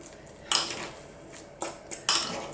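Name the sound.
mashing with a potato masher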